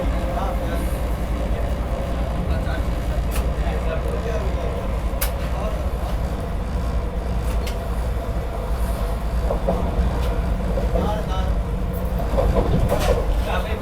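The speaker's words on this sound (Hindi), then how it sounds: "बढ़िया स्पीड में स्किप कर रही है सोनीपत जंक्शन अभी अपनी ट्रेन" Vande Bharat Express train speeding through Sonipat Junction at around 130 km/h, a steady loud rumble of wheels and rail noise with sharp high clicks and rattles throughout, heard from inside the moving train.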